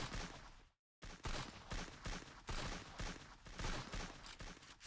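Gunshots in the mobile shooter Free Fire: rapid, evenly spaced shots in a steady volley, cut off by a brief silent gap and then resumed, all fairly quiet, with no speech.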